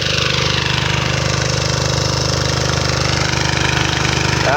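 A small sprayer engine runs steadily at a close, loud idle, its rapid chugging rhythm continuous throughout.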